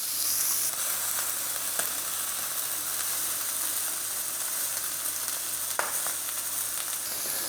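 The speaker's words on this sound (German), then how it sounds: "und dann nochmal anbraten lassen." Tafelspitz beef steak searing in a hot pan, a steady close sizzle and hiss with a few faint pops, no voices.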